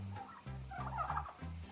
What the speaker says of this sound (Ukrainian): Мені так подобаються ці сусідські індики, що я не можу перестати їх знімати.